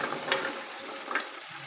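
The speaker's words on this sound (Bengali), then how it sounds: "কেটে রাখা সবজিগুলো ঢেলে দেবো।" Chopped mixed vegetables tipped into hot spiced oil in a village kitchen pan, a close steady sizzle with two brighter bursts as the pieces land and get stirred.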